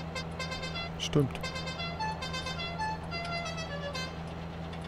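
A farm vehicle in Landwirtschafts-Simulator 19 gives a short honk, one brief toot over a steady engine drone, with someone talking around it.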